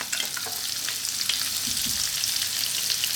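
Onion drops into hot oil in a pan and fries, giving a loud, continuous close-up sizzle and crackle with a little stirring and no voices.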